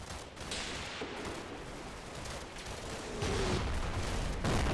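Dense, distant rifle and machine-gun fire crackles continuously as SS infantry launch an assault in Combat Mission, a World War II battle at Operation Epsom, with sharper bursts growing louder near the end.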